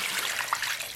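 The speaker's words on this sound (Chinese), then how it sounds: "给锅里边稍微来点水" Water poured from a vessel into a cooking pot to blanch pork ribs. It is a steady, close, continuous pour with a brief splash in the middle, and no voices.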